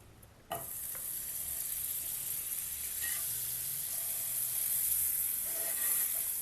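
Milky Mist salted butter hits a hot pan for paneer tikka, bursting into a bright, steady sizzle that holds and builds slightly, with a few faint clinks and stirring scrapes.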